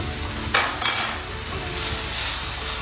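Desiccated coconut mixture for laddu being stirred in a pan, with close scraping of a spoon against metal, a couple of louder clanks early on, and a soft steady sizzle underneath.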